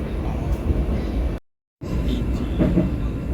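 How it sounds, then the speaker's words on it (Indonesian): Steady rumble and rattling of the Gajayana Tambahan passenger train in motion, heard from inside a carriage, a continuous loud wash with a brief dropout midway. "Jadi sekarang sudah berada di dalam kereta api Gajayana Tambahan"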